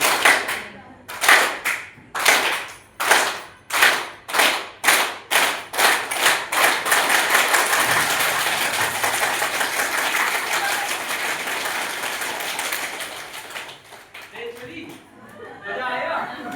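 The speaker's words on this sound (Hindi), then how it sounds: "फिर ताली करो।" A group at a training session claps hands in a quick rhythmic pattern of sharp, loud claps that speeds up and merges into sustained applause, with chatter underneath at the end.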